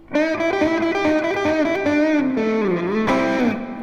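Distorted electric guitar plays a fast pentatonic lead lick at full speed, quick note runs with bends sliding down to a held low note, loud with no other sound.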